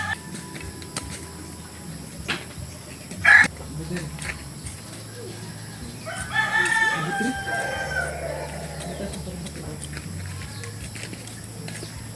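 A rooster crows at a distance amid outdoor background noise, with a brief sharp clatter earlier and faint talk around it.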